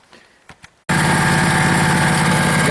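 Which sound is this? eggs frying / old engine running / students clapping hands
old engine running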